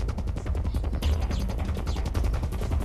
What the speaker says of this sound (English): Well, I have been shooting things.